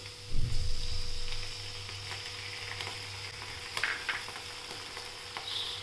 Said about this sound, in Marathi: त्याच्यात आपण आता हिरवी मिरची आणि लसूण बारीक सरसर हे करून ठेचून घेतले. आता ते परतून घेऊया.